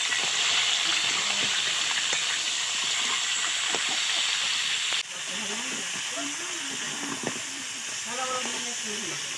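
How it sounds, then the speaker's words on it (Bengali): Katla fish heads frying together in hot white oil give a steady, loud hiss and sizzle that holds throughout, dipping slightly midway, with a faint voice murmuring briefly underneath. "মাছের মাথাগুলো সব একবারে দিয়ে দেব দিয়ে আমি এটা ভালো করে ভেজে নেব"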